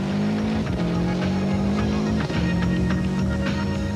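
Prodrive Subaru rally car, a world champion machine, racing at the 1996 City of Mount Gambier Rally: a loud, close, steady engine drone with shifting pitch and brief dips in revs, with no talk.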